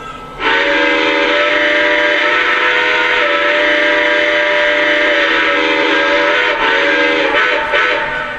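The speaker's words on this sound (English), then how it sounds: "Here's the whistle." A long, loud whistle from a Lionel Erie 2-10-4 Texas model steam locomotive blows continuously for several seconds, a sustained chord-like tone with small wavers, close and alone.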